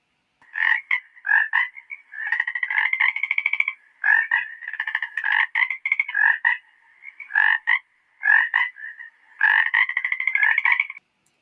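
A chorus of frogs croaks in the evening in rapid, rhythmic bursts of rattling calls, close and clear, with brief pauses between phrases.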